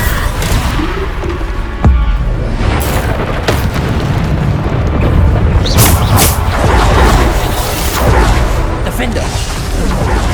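A Bombarda spell explodes in Hogwarts Legacy amid continuous loud, booming blasts and rumbling impacts, with repeated bursts across the whole stretch over a dense, roaring game soundscape.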